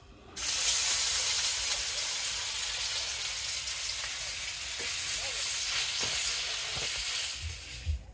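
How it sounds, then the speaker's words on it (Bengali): Fish fries in a pan with a dense, steady sizzle that starts abruptly and holds loud and close throughout, with a few faint clicks near the end. "এই যে মাছ ভাজি আমার শেষ"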